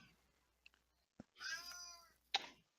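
A voice imitates a cat's meow: one drawn-out, mewing call, then a short second cry, both quiet against near silence with a couple of faint clicks before them.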